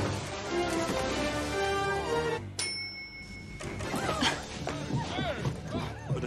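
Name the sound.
horse neighing in a movie scene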